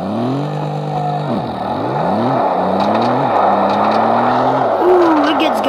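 A 1996 Toyota Tacoma with a 4.0L V6 launches hard, its engine revving up in rising sweeps with brief dips at each gear change, loud and close throughout.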